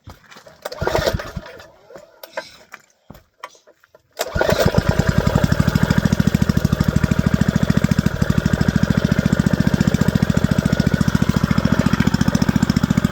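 A 1981 Tecumseh small engine, fresh from a carburetor clean, coughs and sputters through a few uneven bursts, then catches and settles into a loud, steady, rapid putter that runs to the end.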